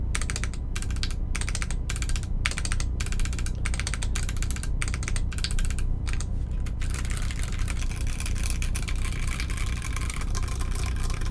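Rapid typing on a Volcano660 mechanical keyboard fitted with H1 switches and PBT keycaps, a dense stream of crisp close clacks for several seconds before it trails into a steadier hiss.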